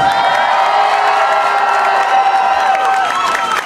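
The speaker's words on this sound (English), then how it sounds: "Give a warm round of applause." A concert audience at a show claps and cheers loudly and continuously, a dense wash of applause with whoops filling the whole stretch.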